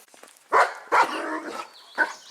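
Several dogs bark in loud, close bursts, three sharp barks spaced about half a second apart, with whimpering and yips in between, near a wooded site where a tree is being felled.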